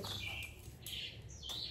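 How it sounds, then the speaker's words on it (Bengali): Small birds chirp in quick bright bursts near a home kitchen, a steady low hum running beneath the repeated calls throughout. "বাবা, এখানে পাখিগুলো কি কিচিরমিচির করছে"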